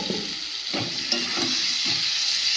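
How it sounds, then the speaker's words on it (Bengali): Chopped prawns sautéing with spice paste in a pan, a steady hissing sizzle with a few soft stirring scrapes, close and fairly loud, no voices. "ভালো করে মশলার সঙ্গে কষাবো"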